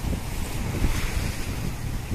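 Continuous rumbling surf with wind noise buffeting the microphone, a steady wash of breaking sea waves up close at a beach in Kupang, East Nusa Tenggara, with no voices.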